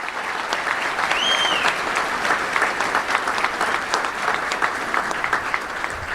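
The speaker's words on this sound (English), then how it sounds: "Let's give them a round of applause." Sustained applause from an audience at a touchdown club luncheon, steady clapping throughout with a bright, dense texture and no talk over it.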